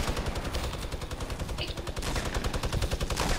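Rapid gunfire in the video game Fortnite, a dense, continuous burst of loud automatic shots rattling steadily throughout.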